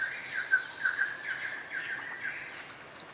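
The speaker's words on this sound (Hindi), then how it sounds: "ये सुपर फाउल है और आप इसकी आवाज़ सुन रहे हैं।" A Sri Lankan spurfowl calls in an ancient rainforest, giving a run of repeated squawking, ringing notes at moderate distance over a soft, steady forest background.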